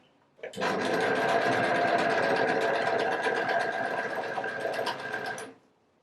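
An Empisal overlock sewing machine stitches a side seam on an upcycled polo-neck top, running as one loud, continuous motorized whir for about five seconds before it stops.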